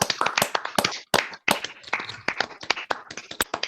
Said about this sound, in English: And can I suggest to the rest of you that we make our usual noisy applause